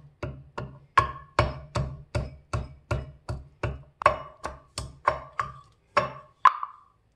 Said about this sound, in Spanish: Ahora vamos a usar un mortero o un pilón y vamos a machacar el ajo